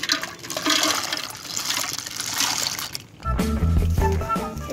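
Water pours and splashes loudly over freshly gathered snails as they are rinsed, a continuous rushing wash that shifts into a heavier, deeper gush partway through.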